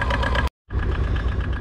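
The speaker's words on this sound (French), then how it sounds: "il faut presque que je m'arrête de parler pour qu'on puisse entendre le moteur" Aixam Coupé Emotion 2020 microcar engine running steadily at idle, a continuous low mechanical hum with a faint knocking pulse, briefly cut off for a moment of silence before resuming.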